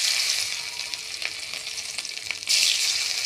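Chopped ginger hits hot oil already holding cumin, for a spicy rohu fish curry: a steady broadband sizzle with faint stirring taps, swelling louder near the end, with no voices.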